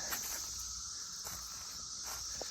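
A dense, steady chorus of Brood XIV periodical cicadas drones in the background of woods, with faint rustling and footsteps crunching nearby.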